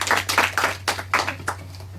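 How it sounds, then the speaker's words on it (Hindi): Several sharp claps burst out in quick succession, a short round of applause from a TV quiz show audience with uneven rhythm over a steady low hum. "एक बार जोरदार ताली हो जाए दोनों के लिए"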